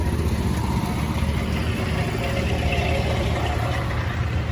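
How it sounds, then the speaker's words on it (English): A heavy old Allis-Chalmers tractor engine chugs steadily at idle at an old threshers reunion, a continuous low rumble that stays loud and close throughout with no talking. "And that's another tractor that sounds good."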